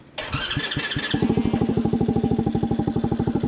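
Cushman replica scooter with a push-button electric start: a brief starter whir, then the small single-cylinder engine catches and settles into a steady, close, rapid putter.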